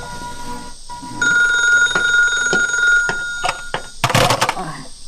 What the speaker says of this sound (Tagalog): Naguni ti telepono.